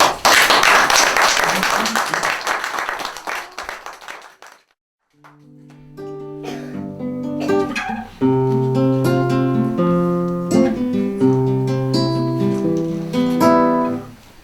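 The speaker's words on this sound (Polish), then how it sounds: "Brawa." Audience applause at a poetry event in Ostroszowice, dense clapping for a few seconds that fades out, then gives way to music with sustained tones.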